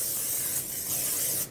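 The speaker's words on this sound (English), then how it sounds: "Got to get sprayed." Cooking spray hisses from a can into a pan in one steady, close burst of about a second and a half, cutting off sharply at the end.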